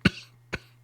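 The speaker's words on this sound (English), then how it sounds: "I got a bad cough from being sick." Two short, close coughs from a person who is sick, about half a second apart, over a faint steady hum.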